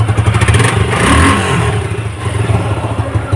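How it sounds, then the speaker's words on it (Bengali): Close-up, a Suzuki Gixxer motorcycle engine runs at a steady, throbbing idle with a light mechanical clatter and a small swell in revs partway through. "ইঞ্জিনের সাউন্ড,"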